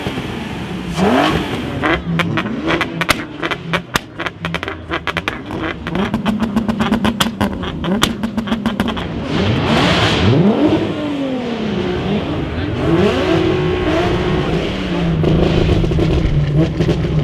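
A Volkswagen Scirocco revs hard at a car show sound-off, a loud sequence of sharp throttle blips followed by sustained, climbing revs with long rising and falling engine sweeps.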